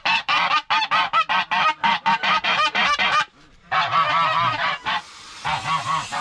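Geese honk loudly and repeatedly at close range, a rapid run of harsh calls followed by a brief pause and then more sustained, agitated honking.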